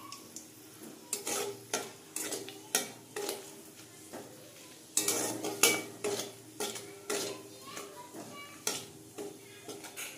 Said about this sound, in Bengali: ফোড়নটা আর একটু নেড়ে চেড়ে ভেজে নেব।